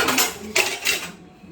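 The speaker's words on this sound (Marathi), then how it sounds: "त्याचीच कढई आता काढून ठेवायची" A metal kadhai (wok), just used for frying a little grated food, is lifted off and set aside. It gives three quick metallic clanks and scrapes close by in a quiet kitchen, then the noise fades away.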